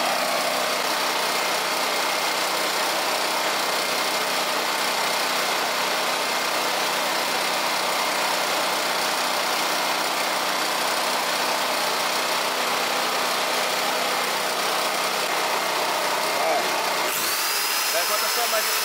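A gasoline chainsaw and an electric brush cutter powered by a 3.6 kVA gasoline generator drone continuously together with a high buzzing whine, loud, steady and close for a long stretch before cutting off abruptly near the end.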